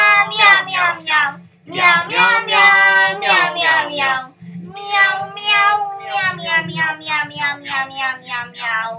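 A human voice imitates a cat meowing, producing a long, loud, close run of repeated high, wavering meows in quick rhythm with a couple of short breaks.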